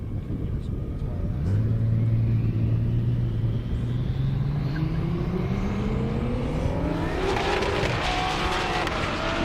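A BMW M340i drag racing on a half-mile airstrip, engine revving up through rising gears as it accelerates away, loud and close then roaring on, with an announcer talking over it.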